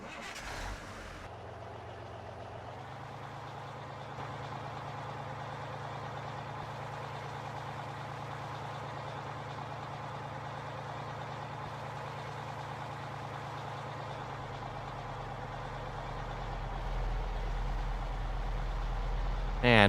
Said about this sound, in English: And we'll just park the truck in the middle of that wait point there.